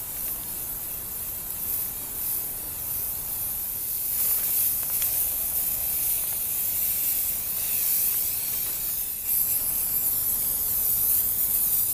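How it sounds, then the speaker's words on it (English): White spray paint hissing from an aerosol can onto a wire planter outdoors, a continuous bright spray held for long stretches with a brief pause and restart. "I'll spray it white now so that it can dry for a couple of days"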